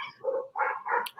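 Dogs bark at close range, three or four quick sharp woofs in a short burst with a brief higher yip at the end.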